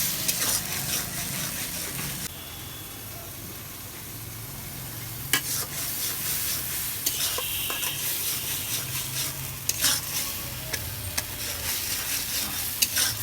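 Spice paste fries in a pan for a fish curry, a low, continuous sizzle with intermittent spatula scrapes and clinks against the pan, fairly quiet and without talk.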